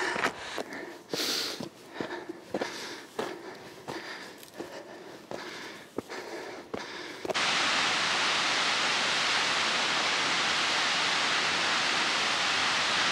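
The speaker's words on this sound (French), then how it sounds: "on arrive près de la cascade" Sniffs and breathing at first give way to a close, loud, steady broadband rush of a waterfall reached after a two-hour hike, continuing alone until the end.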